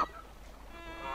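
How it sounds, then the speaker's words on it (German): Geese honk from the Frogger video game, a short nasal honk at the start and another at the end, clear and up front over a faint game background. "Nicht schon wieder Gänse."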